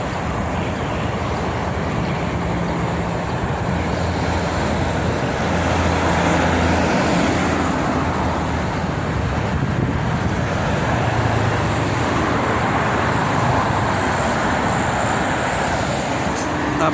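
Heavy morning traffic dominated by trucks and buses streams along the Jakarta–Cikampek toll road, a loud continuous roar of engines and tires with passing vehicles swelling and fading and faint voices underneath.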